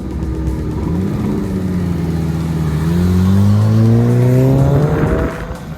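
A Nissan Silvia pulls away, its engine revving up through rising pitch sweeps with a brief tire squeal, loud and close before the sound drops off sharply near the end.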